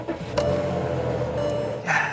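A junk car's VR engine idles close by with a steady, low, smooth purring hum, and a couple of brief clicks and rustles sound over it.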